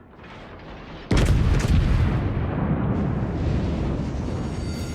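Battleship guns of the Tirpitz fire a heavy naval artillery salvo in World of Warships, a sudden loud boom after a quiet second, followed by rumbling blasts that linger to the end.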